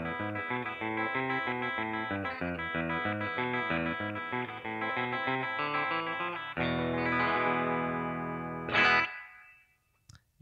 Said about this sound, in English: Let's see what it sounds like when it's a single coil.